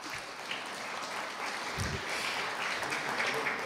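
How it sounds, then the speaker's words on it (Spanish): Steady applause from an audience at a school award ceremony, a dense continuous patter of many hands clapping at even loudness throughout, with no one speaking over it. "Aplausos para ella, por favor."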